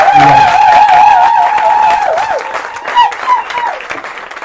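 A church congregation applauds and cheers to welcome a prophet, with loud continuous clapping under a prominent wavering tone that may be a voice or instrument and fades partway through.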